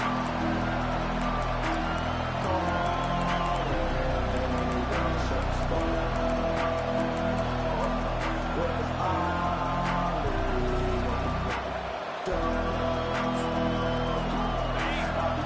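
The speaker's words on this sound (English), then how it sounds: "This crowd, full throat, spreading the eardrums" Packed football stadium crowd roaring full-throated after a kick return out of the end zone, a dense, loud, sustained wall of noise with only a brief dip near the end.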